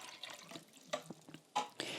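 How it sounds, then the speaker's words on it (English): Water from a jug is poured into the 500 ml tank of a Dolce Gusto Piccolo XS coffee machine during descaling, giving soft, uneven splashing and trickling in short bursts with brief pauses. "pour in our 500 ml of water into the tank"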